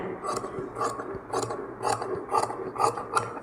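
Scissors snip through cloth for a blouse neck piece, cutting a bias cross strip, in a run of about seven evenly spaced crisp rasping cuts, close and fairly loud with no talking.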